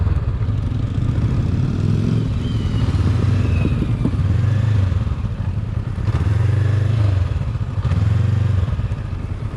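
Motorcycle engine running steadily at low speed through tight turns in a parking lot, a constant mid-pitched drone with gentle swells and slight rev changes, heard close and alone.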